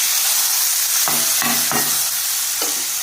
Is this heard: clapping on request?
no